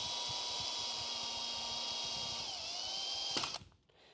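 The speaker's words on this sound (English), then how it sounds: "Taking your 3mm or your 1/8 drill, just drill the centre of that little grommet." A power drill with a 3 mm bit bores through the centre of a small grommet while installing an Aussie Traveller DC door. The steady whine runs close and loud for about three seconds, then winds down and stops.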